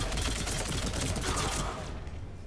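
Rapid gunfire in the video game Mass Effect 3, a dense, continuous burst of shots that thins out near the end, loud in the foreground.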